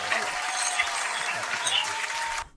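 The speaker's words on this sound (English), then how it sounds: "We're going to clap it up for" Dense, steady applause from a sizable audience fills the room, holding evenly before cutting off abruptly near the end.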